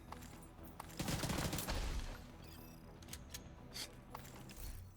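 Flashbang grenades go off in a video game, a loud dense burst of explosive crackle near the start that fades into scattered softer clicks and pops.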